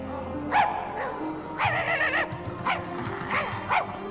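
A dog barks and yips in short repeated bursts within a Czech puppet film, the barks sounding close over a faint background with no speech heard.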